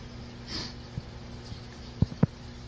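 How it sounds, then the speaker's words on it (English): A few quick, close sniffs through the nose, two sharper ones near the end, over a quiet steady hum. "apologies for the sniffles"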